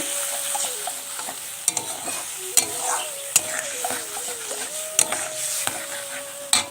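Tamarind being stirred in a pan, a soft steady sizzle punctuated by sharp clicks and scrapes of the spoon against the metal, with a faint whining hum underneath and no talking.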